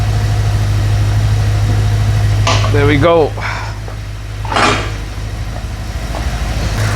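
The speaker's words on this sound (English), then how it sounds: "the engine just sounds nicer because it's got fresh oil in it" An Audi RS4 engine idles steadily and loudly up close after a fresh oil change, a constant low rumble throughout, with someone talking briefly over it midway.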